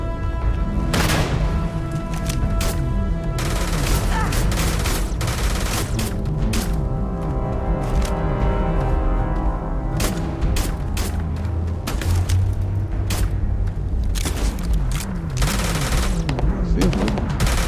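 Rapid automatic gunfire and bursts of shots fill a combat scene in the video game Starfield, loud and continuous with repeated volleys and occasional booms, while a voice speaks in between.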